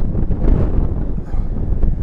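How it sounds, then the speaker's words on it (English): Strong outdoor wind buffets a microphone with loud, continuous low rumbling gusts that swell and dip, and no other clear sound comes through. "Proper windy."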